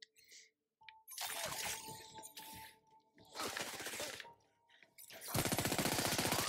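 Machine gun fire from the video game Crackdown 3, loud rapid bursts in three separate volleys with short pauses, mixed with glassy shattering and metallic impact noise.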